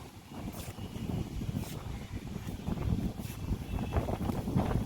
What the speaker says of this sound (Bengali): মনে হচ্ছে এবার ঝড় আসবে, হাওয়ার আওয়াজ শুনেছো?